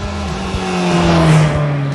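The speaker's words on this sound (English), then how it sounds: "this CBR's engine sounds refined and delivers seamlessly smooth performance, accompanied by a subtle exhaust note" A Honda CBR650F sport motorcycle engine revs up close, its steady harmonic drone rising slightly in pitch, loud and alone without talk.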